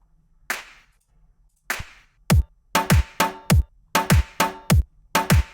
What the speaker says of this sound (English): you have a clap that comes in.